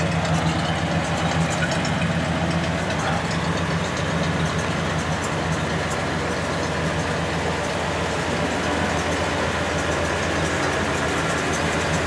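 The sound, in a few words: 1936 Ford engine idling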